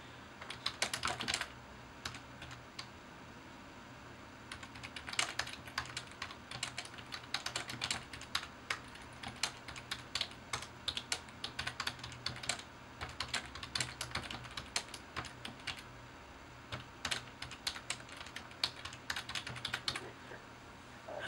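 Steady typing on a computer keyboard, rapid close key clicks in irregular bursts with brief pauses, continuing for about twenty seconds without talk.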